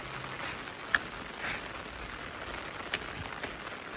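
Monsoon rain falls in a village, a faint, steady patter with a few sharper individual drops standing out now and then, and no voices.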